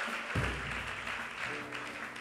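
A church congregation claps and cheers in praise, a dense steady wash of applause with a low musical drone underneath, fairly distant and continuous.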